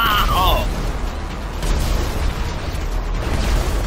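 Grenade launcher blasts in GTA 5 Online, a steady rumbling barrage of muffled explosions with no clear single peak, running under talking voices throughout.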